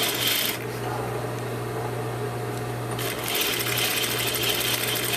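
A sewing machine backstitches a garment lining, running in rapid close mechanical bursts with a steady motor hum, pausing briefly in the middle before starting again.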